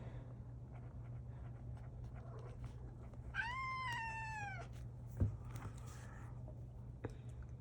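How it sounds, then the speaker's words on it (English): A needy cat lets out a single drawn-out meow, fairly close, over a steady low background hum, followed by a few faint taps. "Needy cat, right there"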